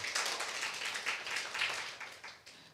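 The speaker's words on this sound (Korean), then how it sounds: "우리 박수 한번 치겠습니다." Church congregation briefly claps to welcome a visiting brother, a short, even patter of many hands at moderate volume.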